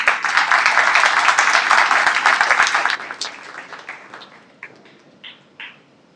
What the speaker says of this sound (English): a round of applause for Ankit.